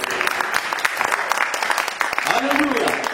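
A church congregation bursts into applause during a sermon, a dense, fairly loud clatter of clapping that runs throughout, with voices and cheers mixed in.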